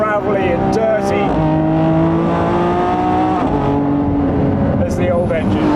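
A Lamborghini Revuelto engine revs loudly and close, its pitch climbing and falling through several rises in a strong harmonic wail, with a voice talking over it.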